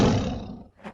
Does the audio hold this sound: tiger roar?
yes